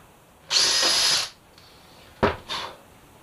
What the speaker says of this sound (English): I'll use my little spring-loaded counterbore tool here